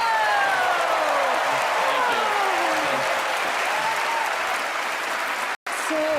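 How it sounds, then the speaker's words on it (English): Studio audience applause at a TV magic show fills the clip with steady, dense clapping, broken by a brief cut near the end. "Give Mark a nice round of applause for helping me, and Gilbert Gottfried as well."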